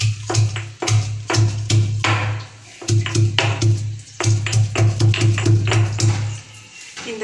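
Garlic cloves pounded in a mortar for tomato pickle, a steady run of close, loud thudding strikes in quick rhythm with a couple of short pauses.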